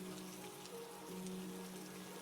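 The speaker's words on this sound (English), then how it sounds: "It's raining a lot," Soft, steady rainfall makes a faint, even hiss with no other sound over it.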